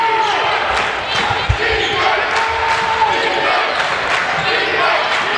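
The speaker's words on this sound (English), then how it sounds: "just paying attention to the crowd behind us" A college men's basketball crowd in the gym, Thomas More at Saint Vincent, murmurs and cheers in a steady loud wash, with ball bounces and sharp court sounds and commentators talking over it.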